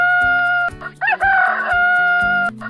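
A rooster crows a long, loud cock-a-doodle-doo close by, over light background music with a steady bass pattern.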